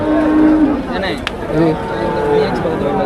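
Cattle moo at Melapalayam cattle market, where racing bulls are being brought in: a couple of nearby lowing calls rise over a busy outdoor background of murmuring voices.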